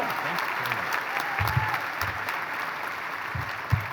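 Audience applause welcoming the 2025 commencement speaker at a university graduation ceremony, a steady dense clapping wash with occasional louder claps and faint crowd murmur throughout.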